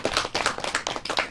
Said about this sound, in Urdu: تالی ہو جائے بھائی ان کے لیے.